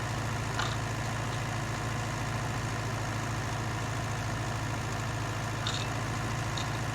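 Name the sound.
County 754 tractor engine pulling a Massey Ferguson plough uphill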